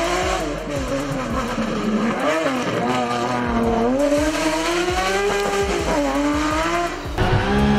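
A BMW E46 M3 engine screaming to 9000 rpm, loud and close, with repeated rising and falling revs and a sharp high-pitched wail holding near the top of the range.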